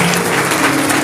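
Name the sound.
congregation applauding in church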